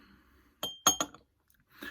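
Small whisky tasting glasses clinking together, a few bright, sharp glass taps in quick succession with near silence between them.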